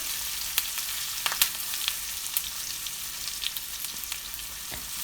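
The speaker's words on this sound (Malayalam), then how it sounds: "ഈ ചെറിയ ഉള്ളി നല്ല ചുവന്ന കളറാവുന്നവരെ ഒന്ന് ഇളക്കി കൊടുക്കുക" Small onions and curry leaves fry in a pan for a tempering, a steady close sizzle with scattered crackles and pops throughout, no voices.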